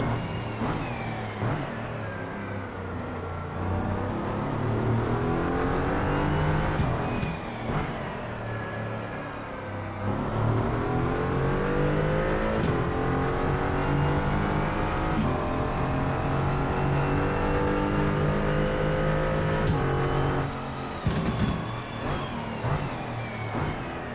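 A Mercedes-AMG GT4 EVO race car engine in a racing video game on a night run around the Hong Kong Street Circuit, revving hard and continuously with rising pitch sweeps, sharp downshift drops and brief lifts between corners.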